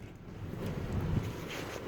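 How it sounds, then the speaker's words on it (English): Gusty beach wind buffets the microphone in a steady low roar, rising slightly midway, with no voices heard. "it's really windy out here"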